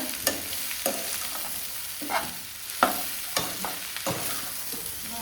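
Mushrooms fry in a pan under a steady, close sizzle, with a spoon stirring and scraping them at regular intervals throughout.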